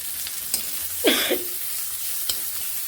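Onions fry in a pan, a steady close sizzle with a few sharp clinks and one scraping stir of a utensil.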